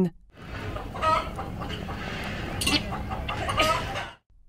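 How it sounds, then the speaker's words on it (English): Busy farmyard clucking from hens, a steady run of short calls over a dense background of other birds and bustle. "hen"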